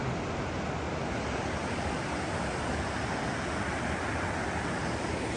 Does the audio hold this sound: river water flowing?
yes